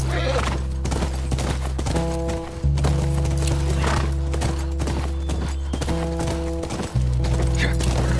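A horse in The Last of Us video game: clip-clopping hooves and a whinny over steady droning game music, fairly close and clear, with no talking.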